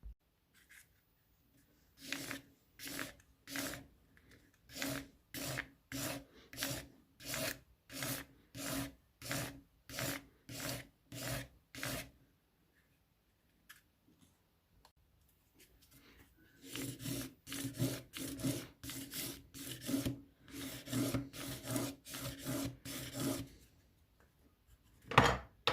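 Coarse sanding of silver and gold opal jewellery: a steady series of quiet, evenly spaced abrasive strokes, a short pause, then a faster, denser run of rasping passes.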